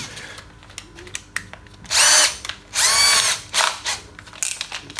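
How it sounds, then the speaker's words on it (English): A cordless drill running slowly for sharpening a mortiser chisel whirs in a few short bursts, each about a second, with clicks and tool handling between them, close by. "drop it in your cordless drill"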